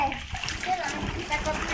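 Children splash and slosh in swimming water, a scattered, uneven wash of splashes with kids' voices and adult talk over the top.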